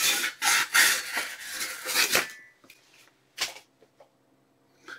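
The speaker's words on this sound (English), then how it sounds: "How about sawing through a little bit of cardboard?" A Cold Steel Pirate cutlass blade sawing through a piece of cardboard, several rough scraping strokes in quick rhythm up close, then a few fainter isolated rasps and taps.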